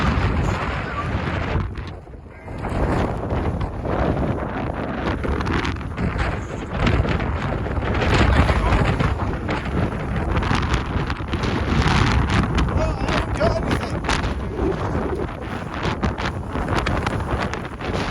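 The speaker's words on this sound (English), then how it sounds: "It's a bit windy, isn't it?" Wind blowing outdoors in open country, a steady buffeting roar with gusts that swell and ease across the whole stretch, and a voice speaking now and then beneath it.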